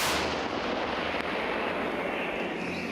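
A 155 mm howitzer fires with a loud, booming blast that rolls out into a long, rumbling echo, heard outdoors with no voices.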